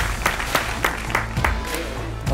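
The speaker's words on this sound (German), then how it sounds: "Riesen Applaus jetzt hier." A small group claps at an indoor German music meeting, with sharp hand claps landing every half second or so over a steady wash of broadband noise and low hum.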